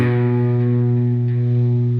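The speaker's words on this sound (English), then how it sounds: "I'm bringing the drive down a little bit on the overdrive" Electric guitar through an overdrive pedal with the drive turned down for milder distortion, a single sustained chord ringing loud and steady with rich harmonics and no talking.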